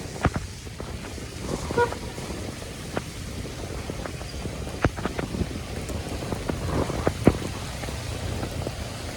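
Rain pours on a Dhaka city street as a continuous patter, with sharp drip clicks scattered throughout. Faint traffic hums underneath.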